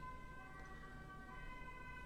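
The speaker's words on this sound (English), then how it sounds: "Got some sirens going on outside" Emergency vehicle sirens wail outside, faint and distant, a steady rising and falling tone that runs through the whole short stretch with no other sounds on top.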